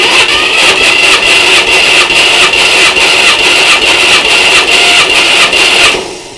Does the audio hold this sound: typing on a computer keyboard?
no